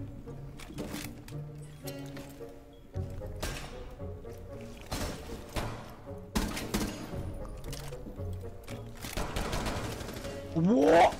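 Rapid bursts of video game gunfire crack repeatedly over a music-heavy backdrop, shots clustering in quick volleys with short gaps between them.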